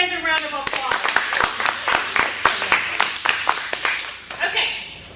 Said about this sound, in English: Can you guys give these guys a round of applause?